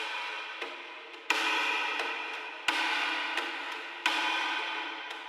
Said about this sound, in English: here I've got this percussive loop and I've got Elastic Pitch V2 loaded up onto it